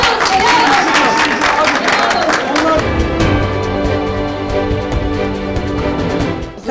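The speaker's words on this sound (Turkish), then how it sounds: "hep böyle alkışlıyoruz." An audience at a Kahramanmaraş food promotion event in Istanbul claps loudly for the women cooks for a few seconds, then the applause fades under a speaking voice.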